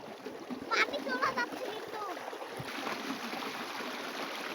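Rushing, splashing water gushes steadily from a deep tube well at moderate volume, with a voice and brief speech heard over it.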